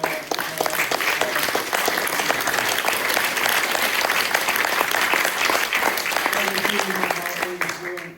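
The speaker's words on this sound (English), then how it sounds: "So a round of applause for Dan, Sarah," Audience at an energy community evening event applauds the speakers, a dense, close burst of many hands clapping that holds steady for several seconds, with a voice faintly audible toward the end.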